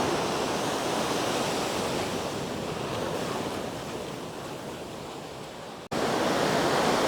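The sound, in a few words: waves on a rocky beach in Bali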